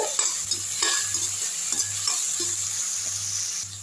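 Rice sautéing in a pan over low heat, with a steady close sizzle and repeated scraping strokes from stirring.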